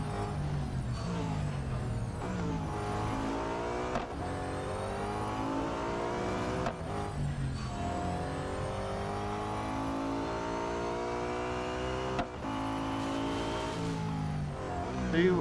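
Nissan R390 GT1 race car engine in Real Racing 3, droning loud and steady at high revs in top gear, with brief dips at gear changes and no other sounds breaking through.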